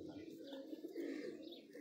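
Ferozpuri pigeons coo on a rooftop, giving a continuous soft, low burbling at close range. No speech is heard in this short stretch.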